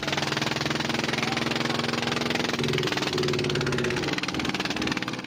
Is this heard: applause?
no